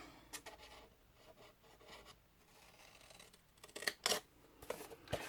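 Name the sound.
cutting the corners of a scrapbook album by hand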